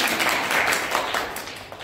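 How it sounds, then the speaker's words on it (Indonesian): A classroom of students gives a brief burst of scattered applause, a dense, fairly quiet patter of many hands that fades out within two seconds. "Tepuk tangan buat saya"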